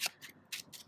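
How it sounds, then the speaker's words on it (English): New, slippery tarot cards being shuffled by hand, four short soft riffling bursts close by and faint, with no talk. "So let's shuffle these cards."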